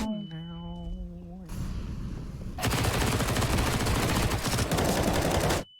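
Gunfire during a Counter-Strike pro match plays as sustained, dense bursts of shots over game sound, starting after a short tonal effect and continuing loud for several seconds before stopping abruptly.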